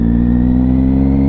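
A vehicle engine roars loudly in first gear, a steady, close, strained drone that holds throughout with no talking.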